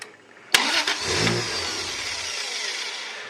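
A Toyota 1JZ inline-six in a Lexus SC300 being started: a sharp click, starter cranking, then the engine catching and revving up before settling and fading, loud and close with no talking.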